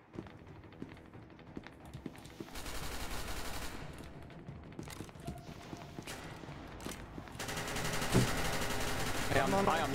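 Gunfire in the SCP: Secret Laboratory shooter game, with rapid clusters of sharp shots and bursts scattered through a busy mix of game noise and music, fairly faint and mixed.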